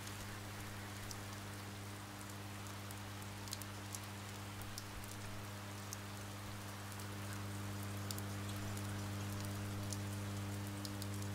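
Steady rainstorm in the video game Oxenfree, a dense even hiss of rain falling on surfaces, continuous and moderately loud beneath a low constant hum, with no talking.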